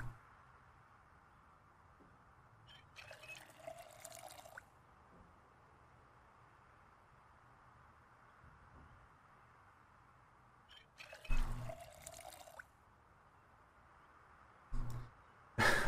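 Two separate bursts of water pouring and filling in the video game Project Zomboid, each a couple of seconds long, with quiet gaps and a few faint drips between.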